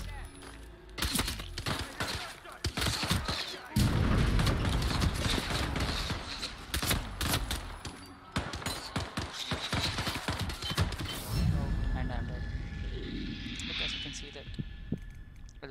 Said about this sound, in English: I'm going to select my pistol 9mm pistol and shoot this